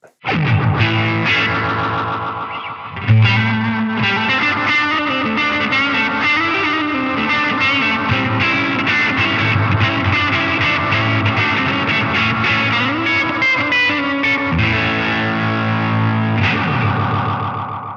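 Dense, distorted electric guitar playing through a NUX Atlantic delay pedal with level and repeats turned up, repeats stacking into a thick, continuous wash of sound throughout.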